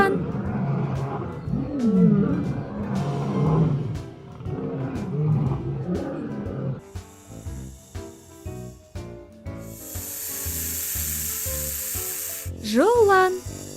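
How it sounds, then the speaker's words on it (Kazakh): A cartoon lion gives a couple of deep, growling roars up front, followed by music with jingling and a rising whoosh toward the end. "Арыстан."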